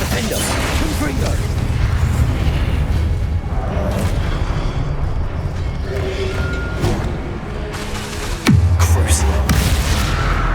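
The Confringo blasting spell from the Hogwarts Legacy video game goes off as a heavy boom with whooshing bursts and mechanical clatter, ending in one sharp, loud impact, while a voice talks underneath.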